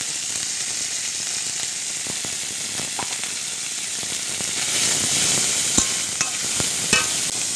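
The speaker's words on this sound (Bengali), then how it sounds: "চিংড়ি ভাজা ভাজা হয়ে গেছে" Shrimp frying in a pan with salt and turmeric, a steady broadband sizzle running throughout with several sharp utensil clicks and scrapes as they are stirred toward the end.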